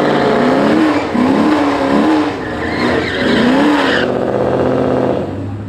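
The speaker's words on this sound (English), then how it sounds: "Getting a little burnout." A car doing a burnout at a street racing scene, loud close tire squeal wavering over a roaring revving engine, sustained for several seconds before easing off.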